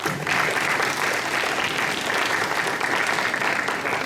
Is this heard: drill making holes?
no